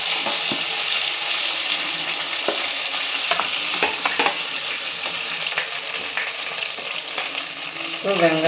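Chicken leg pieces fry in a pan and are stirred, so a loud, constant sizzle comes broken by clattering scrapes and knocks of the spoon, with a brief scraping clank near the end.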